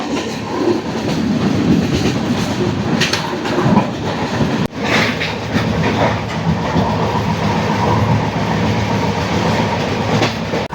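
A passenger train on the Kollam to Coimbatore route runs near Aluva, Kerala, with a steady loud rumble, rhythmic clickety-clack of wheels over rail joints and occasional rattles, heard from inside the carriage without talk.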